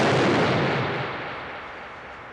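A gunshot from the Rockstar video game The Warriors rings out as a single loud, broad blast that decays over a couple of seconds, with no voices over it.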